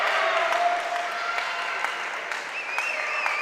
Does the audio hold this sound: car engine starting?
no